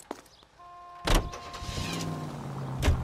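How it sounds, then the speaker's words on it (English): A car in the video game L.A. Noire starting up and pulling away, a sharp thump followed by a steady engine rumble building under faint tonal game sounds. "Get in and drive."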